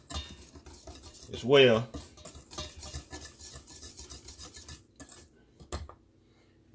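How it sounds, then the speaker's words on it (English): Seasoning stirred into flour with a spatula for mustard fried pork chops: a dry scraping and rubbing against the bowl, loudest in a brief burst near the start, then quieter continued scraping, with a short spoken phrase. "we're gonna go ahead and mix this seasoning up in this flour"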